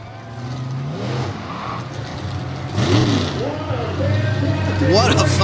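All Star Monster Trucks race in the final round at Jennerstown, Pennsylvania, with a big leap across the finish line; engines roar and rev under loud, continuous announcer commentary.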